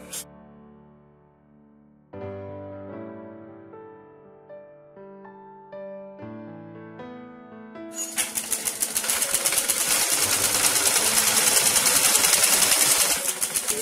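A sewing machine stitches a step frock during a tailoring lesson; after several seconds of steady tonal sound, the machine starts up and runs loudly with a fast, continuous rattling whirr to the end.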